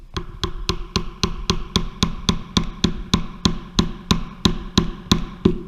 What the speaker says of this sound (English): take the rubber mallet,